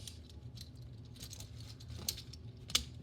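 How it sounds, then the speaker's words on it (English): Plastic parts of a Transformers Studio Series 49 deluxe Bumblebee, new Camaro version, snapping into place: two faint, sharp clicks among soft handling rustle, close and quiet. "Flip all of this in and just click it into place"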